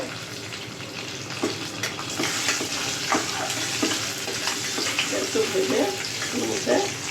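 Cashews and raisins fry in hot oil with whole garam masala as the base for potoler dorma, a steady crackling sizzle filling the whole stretch, with scattered clinks and a spatula's light scraping.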